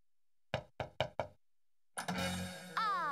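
Four crisp knocks rap on a front door in a cartoon scene, evenly spaced and close, followed by a burst of bright music.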